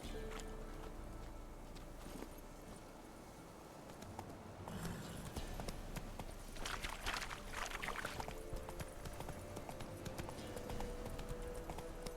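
Roach the horse gallops in Witcher 3, a steady clip-clop of hooves that runs throughout at moderate distance, growing busier partway through, with no voices.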